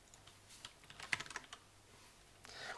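Quiet typing on a computer keyboard comes through as a short cluster of soft key clicks with a couple of sharper taps. It sounds close and faint, and no one speaks over it.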